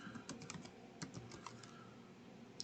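Faint, close keystrokes on a computer keyboard come in short irregular bursts of several taps each, with quiet pauses between them.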